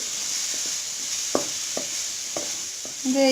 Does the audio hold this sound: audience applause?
no